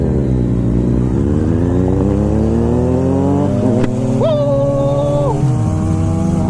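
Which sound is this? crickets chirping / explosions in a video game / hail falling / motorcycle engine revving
motorcycle engine revving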